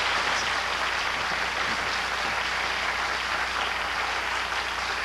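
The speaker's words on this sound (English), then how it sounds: "one of the reasons they're applauding so heartily, Paul, is because of your new show" A 1972 TV studio audience claps heartily in a steady, dense wash of applause that holds at an even level from start to finish.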